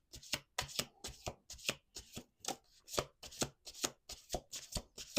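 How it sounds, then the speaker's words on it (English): A deck of playing cards being shuffled at a table, with repeated quick riffling bursts in a steady rhythm, close and crisp, with no talking. "Let's do 2 more shuffles."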